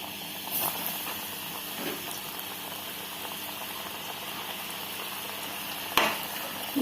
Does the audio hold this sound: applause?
no